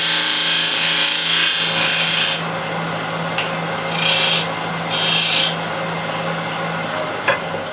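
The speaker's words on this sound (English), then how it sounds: "The flange is a little bit too long, so I need to trim it. To do this is with a spindle gouge." A spindle gouge trims the flange of a wooden piece spinning on a lathe, a loud continuous scraping hiss over a steady motor hum, rising in brief harsher bursts as the tool cuts, with no talking.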